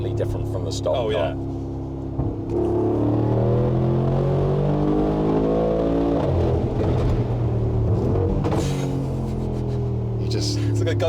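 A tuned 740 hp Mercedes G63 with a full Akrapovic exhaust accelerates hard, its deep engine note rising and falling through gears, with a voice talking over the loud rumble.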